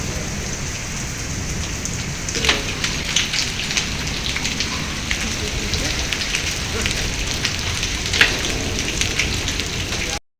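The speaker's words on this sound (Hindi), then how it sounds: "पर फाइनली आज बारिश हुई है और अच्छी खासी बारिश हुई है" Heavy rain mixed with falling hail pours down in a steady, loud wash, with scattered sharper drop impacts and brief louder splashes standing out against the constant roar.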